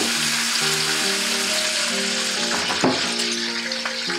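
Bacon frying in a pan for breakfast, a steady loud sizzle and crackle throughout with sharp pops spitting near the end, background music running underneath.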